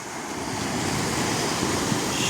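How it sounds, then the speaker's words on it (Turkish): Sea waves roll and break continuously on the beach at Katrancı bay, a dense steady surf roar mixed with wind, heard alone with no voices. "Sahildeki dalgaların sesi insana huzur veriyor."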